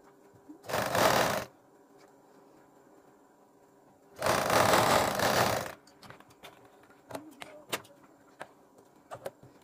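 A sewing machine stitches a sleeve edged with a black strip in two short bursts, followed by light handling clicks and taps in a quiet room.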